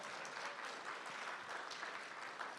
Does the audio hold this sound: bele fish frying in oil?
no